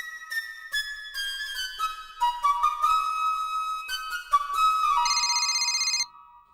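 A bright, melodic phone ringtone plays a series of electronic tones, ending in a fast trilling figure before it cuts off.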